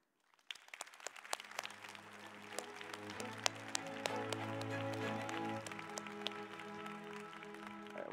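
Plenary session audience in a large hall breaking into applause, swelling from a few scattered claps into a sustained, dense wash of clapping that holds steady, moderately distant with faint tonal hum beneath.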